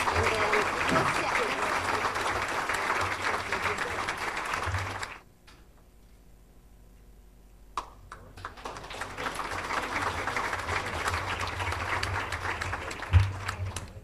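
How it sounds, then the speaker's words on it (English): An audience applauds at a small business of the year awards forum, the clapping steady and full for about five seconds, breaking off into near silence, then returning for a long second round mixed with murmuring voices. "let's give them a warm round of applause"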